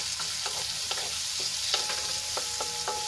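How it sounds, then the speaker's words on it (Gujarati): Chopped onions sautéing in oil in a pan hiss steadily while a spatula scrapes and taps the metal every few moments, close up and without any voices. "અહીંયા સૌપ્રથમ આપણે પહેલાં ડુંગળીને સાંતળી લેવાની છે।"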